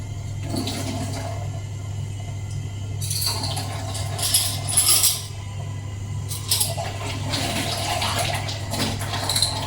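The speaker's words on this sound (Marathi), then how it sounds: "आता ह्याचं पाणी मी बदलणार आहे." Water splashes and trickles steadily as it is poured out of a money plant's container in a home kitchen, with a few clinks of glass and a constant low hum beneath, no one speaking.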